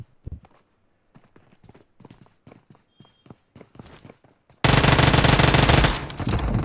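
Gunfire in the PUBG battle royale game, a burst of short sharp in-game shots and footstep-like clicks followed by a sustained loud blast of continuous automatic fire filling the last seconds.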